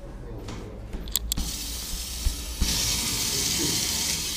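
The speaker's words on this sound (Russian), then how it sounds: "Хорошо, дренаж еще работает." A drainage pump at a pumping station being dismantled runs with a steady broadband rush of draining water, punctuated by a few sharp knocks and clanks, with the flow swelling louder partway through.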